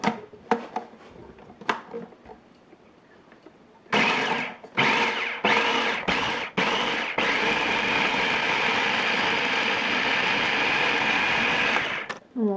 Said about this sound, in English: And we'll just get this all blended up.